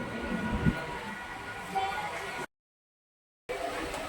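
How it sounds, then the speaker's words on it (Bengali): A train arriving at a station rumbles and rattles close by with a steady low roar and metallic screeching, then cuts to a brief silence before the rumble resumes. "আমরা ট্রেন চলে এলো, ট্রেনে চাপবো আমরা এখন"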